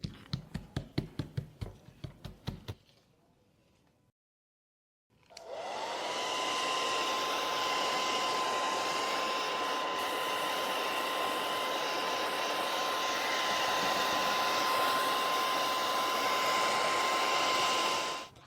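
A hair dryer drying diluted metallic chalk paint starts after a few quick taps and a brief silence, then blows with a steady, loud, close whine until it switches off.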